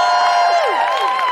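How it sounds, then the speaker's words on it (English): A Christmas live podcast crowd in London whoops and cheers, with long falling yells over a steady roar of applause, loud and unbroken from start to finish. "Big round of applause for Chloe Petz."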